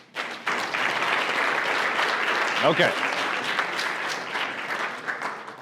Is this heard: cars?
no